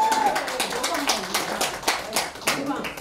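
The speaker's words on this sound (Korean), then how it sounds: "박수 한번 주세요." A small audience at a fan club concert claps for the singer: a run of distinct, fairly close handclaps in an uneven rhythm, with a voice speaking briefly at the start.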